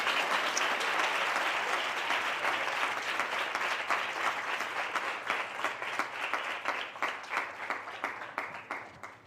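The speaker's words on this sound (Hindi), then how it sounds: "आइए ऐसे खुदा के लिए हम जोरदार तालियां बजाएंगे।" Enthusiastic congregation applause at an evening church worship service, a dense steady wash of many hands clapping that gradually thins into individual, more distinct claps toward the end.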